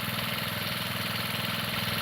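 A John Deere reel mower with an 11-blade reel runs steadily nearby, its engine giving a continuous mid-pitched drone with a faint rhythmic pulse, no voices.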